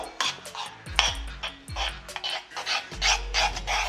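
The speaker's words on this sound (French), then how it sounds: "On mélange jusqu'à ce que vous obteniez une texture, une sorte de pâte à crêpes, quelque chose d'assez épais." An egg is whisked into a thick pancake batter in a bowl, the utensil rubbing and scraping in quick uneven strokes with occasional knocks against the bowl, close and moderately loud.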